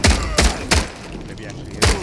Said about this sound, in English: Shooting the zombies that come through the air